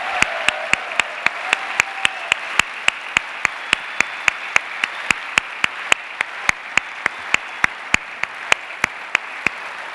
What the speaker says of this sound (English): So just another round of applause for the team that put that together.